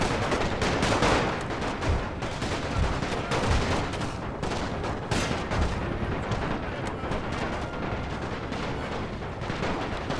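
Gunfire rattles through a World War One strategy game set in Romania, a dense, loud barrage of overlapping shots and booming artillery-like blasts that continues without pause.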